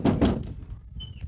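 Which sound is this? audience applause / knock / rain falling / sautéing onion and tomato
knock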